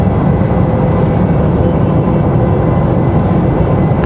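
An Embraer E175 jet at Raleigh-Durham International Airport gives a steady, loud, deep roar that fills the whole stretch without a break.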